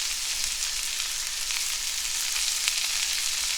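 Olive oil sizzling and frying in a hot pan while a pork roast dish is cooked, a steady, close, even hiss with no break and no talking.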